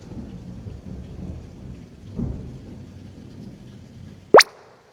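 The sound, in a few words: thunder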